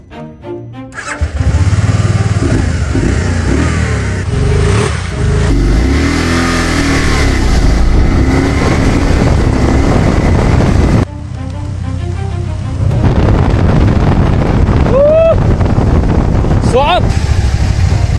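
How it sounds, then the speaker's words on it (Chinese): A Bombardier vehicle, just repaired after a reverse-gear fault and rattling noise, runs on a road test: its engine revs up and down loudly and close by for the whole stretch, with shifts and surges and a brief dip midway. "搞定，走吧，一起去试下车"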